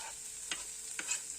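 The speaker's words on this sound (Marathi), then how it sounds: "मेथीला चांगलं ॲड करून त्याला चांगलं हलवून घ्यायचं, मिक्स करून घ्यायचं." Fenugreek leaves are stirred into browned fried onion in a pan, a soft steady sizzle broken by three quick scraping strokes of a spatula, close but quiet, with no talking.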